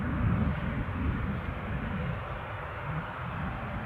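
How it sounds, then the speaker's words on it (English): An Embraer 190 airliner arriving from Amsterdam on approach to Newcastle airport, heard as a steady, broad, low engine rumble at middle distance, holding fairly even throughout with no talk. "1640 from Amsterdam. That would be an Embraer 190."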